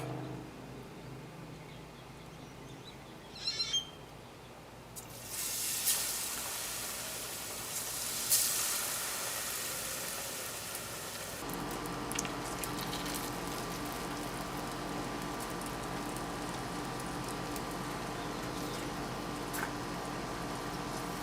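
Beer-battered fish frying in a pot of hot oil, a steady broadband sizzle and crackle that swells as pieces go in and then settles into a continuous bubbling hiss, close and fairly loud, with no talking.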